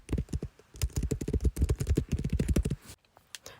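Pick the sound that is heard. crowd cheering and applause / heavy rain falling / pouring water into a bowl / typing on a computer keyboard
typing on a computer keyboard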